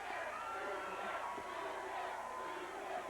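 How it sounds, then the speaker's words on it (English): A 1985 Mid-South Wrestling arena crowd chants and roars for Hacksaw Jim Duggan, a constant, dense wall of voices with a rhythmic swell heard from a distance. "Listen to this crowd chanting,"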